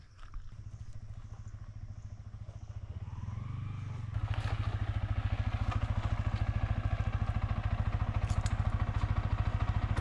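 Motorbike riding a rough 1 km off-road track on the way to a hidden waterfall, its engine a steady close drone that builds and turns louder and rougher partway through, with rattling and clatter over the bumpy ground.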